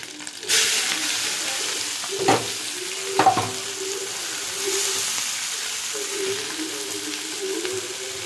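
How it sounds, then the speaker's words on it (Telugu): Eggs fry in a pan for a tomato egg curry, a steady close sizzle that starts abruptly and carries on evenly, with a few louder scraping stirs partway through and no voices. "ఇప్పుడైతే గుడ్లు వేపుకునేయండి బాగానే."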